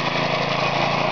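A homemade experimental engine-driven air compressor, its head sealed with JB-Weld, runs steadily up close: a loud, continuous small-engine drone with a buzzing, mower-like rattle and no talk.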